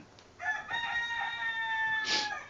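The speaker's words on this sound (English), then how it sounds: "Ending with that chicken screaming." A chicken lets out one long, loud crowing scream close by, drawn out for about two seconds with no talk over it.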